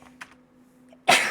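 A single sharp sneeze bursts out at the end, close and loud, after a quiet indoor pause with faint murmurs and a low steady hum.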